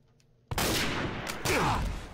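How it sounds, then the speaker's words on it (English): Intense gunfire in Garry's Mod: dense, rapid bursts of shots overlapping in a loud, continuous barrage with no pauses. "You hear the intense gunfire?"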